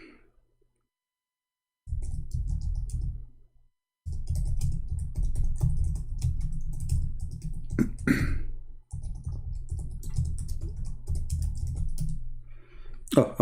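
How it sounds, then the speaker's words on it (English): Rapid computer keyboard typing, close and fairly loud, in steady bursts with brief pauses and a few sharper key clicks; Arabic text is being entered, and no one speaks. "Oh, I was typing in Arabic."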